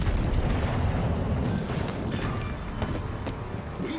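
Heavy naval guns and explosions during a World of Warships battle involving the battlecruiser Repulse and an enemy battleship, rumbling booms and blasts layered continuously, loud and close.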